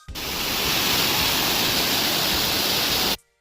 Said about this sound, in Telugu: ఈ కొత్తపల్లి వాటర్ ఫాల్స్ కూడా కంపల్సరీ ప్రతి ఒక్కరు కూడా వచ్చి వీక్షించడం అయితే జరుగుతూ ఉంటుంది